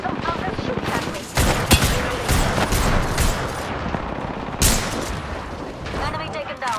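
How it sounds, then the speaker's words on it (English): Rapid bursts of video game gunfire, automatic fire and single shots, crackle loudly through a busy in-game battle, with other game noise and voices mixed in. "Somehow they're shooting at me."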